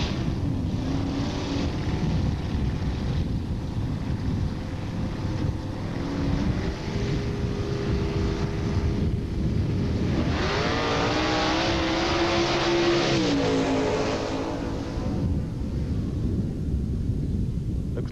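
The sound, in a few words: drag racing cars launching down the strip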